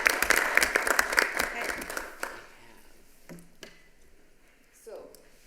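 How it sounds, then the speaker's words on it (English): Applause rises at a city council meeting in thanks to the town's volunteers. Dense clapping fills the room for about two seconds, then fades to a few scattered claps and quiet room noise. "So let's give everybody a big round of applause."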